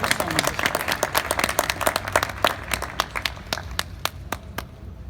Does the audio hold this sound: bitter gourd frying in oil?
no